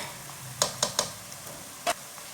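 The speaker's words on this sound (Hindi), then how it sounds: "2 मिनट तक मैंने अदरक और लहसुन को भून लिया।" Ginger and garlic paste fries in a pan with a quiet, even sizzle, punctuated by a few sharp taps from stirring or a utensil striking the pan.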